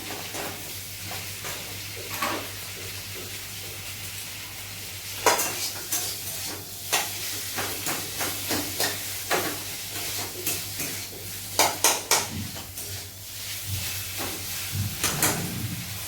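Fried potatoes being mixed with onion and salt in a pan, heard as a steady low sizzle with scattered scraping and clattering stirs that cluster and grow busier toward the middle and end, close by with no talking.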